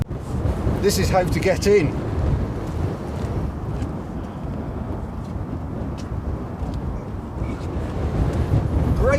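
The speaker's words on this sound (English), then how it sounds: "wind's catching my gimbal" Wind buffets a handheld camera gimbal outdoors, producing a steady, loud, low rumble of gusts through the whole stretch while someone talks over it.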